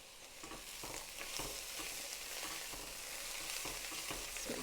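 Vegetables are stirred in a pot for clam chowder, giving a steady close scraping and soft sizzling bed with regular spoon strokes throughout, no voices.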